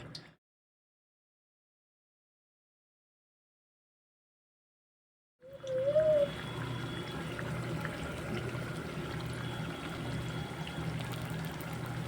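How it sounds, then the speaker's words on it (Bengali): Thekua dropped into oil warming over low heat in a wok: silence at first, then a sudden steady bubbling fry that carries on, close and even. "এদিকে আমি একটা কড়াইতে তেল গরম হতে বসিয়ে দিয়েছি হালকা হালকা গরম হয়েছে একটা একটা করে ঠেকুয়া ছেড়ে দেব তেলের মধ্যে"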